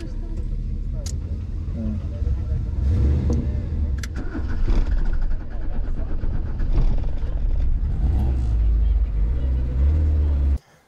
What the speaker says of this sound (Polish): dodajesz gazu i on już... Gasi, nie ma wolnych obrotów